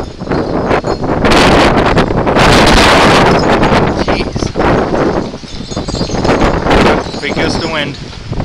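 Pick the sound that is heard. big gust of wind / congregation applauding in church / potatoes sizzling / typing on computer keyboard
big gust of wind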